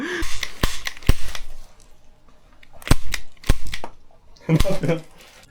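A toy cap-style gun fires in bursts of sharp snapping pops, several quick shots in clusters, close and loud, with brief voices in between.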